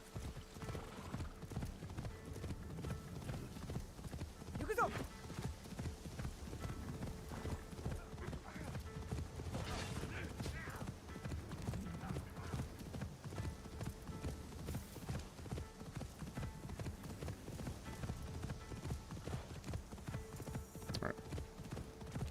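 A horse gallops steadily in the video game Assassin's Creed Shadows, a fast continuous clip-clop of hooves throughout, with occasional louder thuds and light background sounds.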